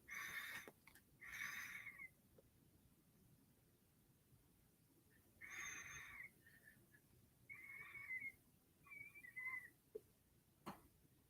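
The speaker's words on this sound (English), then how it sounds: "my pipe's got that down to smoke and ash kind of whistle" A briar tobacco pipe whistles thinly as it is smoked late at night: several short, breathy tonal whistles come in bursts with pauses between them, fairly faint and close, with no talking.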